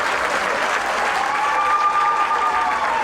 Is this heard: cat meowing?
no